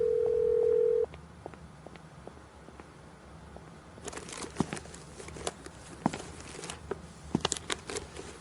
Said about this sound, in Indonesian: aku akan telepon pemiliknya sekarang